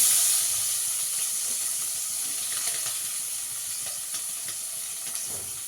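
Chopped onion frying in hot oil in a pan, a steady soft sizzle and hiss with faint occasional clicks of stirring, fading slightly over time.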